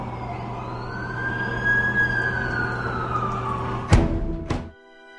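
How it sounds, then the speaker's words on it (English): An ambulance siren wails in The Amazing Spider-Man 2 game, one long rising and falling tone sustained for about four seconds, then two sharp bursts before it cuts off abruptly. "That's the ambulance I called."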